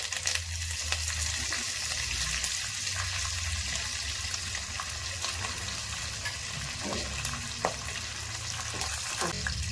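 Curry leaves and lentils frying in hot oil for mango rice, giving a steady, close crackling sizzle that stays dense and even throughout, with faint scraping now and then.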